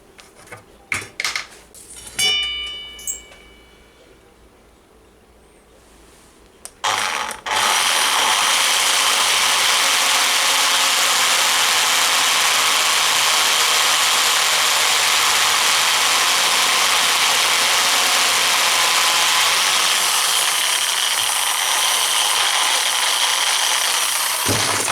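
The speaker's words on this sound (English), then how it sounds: "Drill your hole in the metal there" A few clicks and brief mechanical rattles, then a loud, steady high-pitched power drill whine runs continuously for many seconds while drilling a hole in metal armour plate, before easing near the end.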